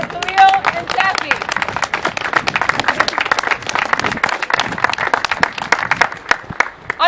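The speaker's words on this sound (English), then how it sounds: "A applause for Khalil and Taffy." Applause and clapping from a crowd at a student gathering at CCNY, with a few voices and cheers mixed in, steady and fairly loud across the whole stretch before tapering slightly near the end.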